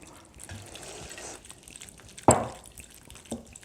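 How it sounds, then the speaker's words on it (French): Water poured over soup ingredients in a pot, a soft trickle building to a brief loud splash midway, followed by quieter drips and a small knock near the end. "On recouvre tout ça d'eau, environ 1/4 de litre par personne"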